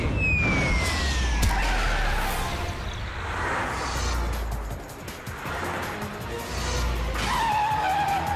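Cartoon race car sound effect: a loud engine roar with tires squealing and skidding, a descending whine at the start and rising revving passes, continuous and close.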